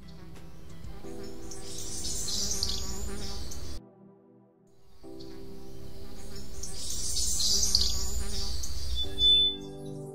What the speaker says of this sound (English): I can get a fly to circle your head from two loudspeakers